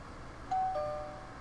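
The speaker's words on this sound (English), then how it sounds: "Ding dong." A faint electronic doorbell chime from the Digimon Cyber Sleuth video game rings once, a short two-tone ding-dong over quiet background hum.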